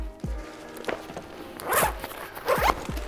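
A zipper on a backpack being pulled open in several quick rasping strokes, close and clear, with soft handling knocks between pulls and no talking.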